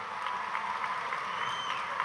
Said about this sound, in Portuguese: Eu queria pedir uma salva de palmas para o presidente Lula.